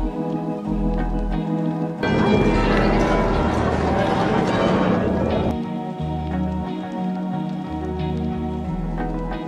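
Horses clip-clop through the cobbled town center of Bruges, their hooves heard amid busy street ambience, with louder crowd and traffic noise swelling in the middle and people talking nearby.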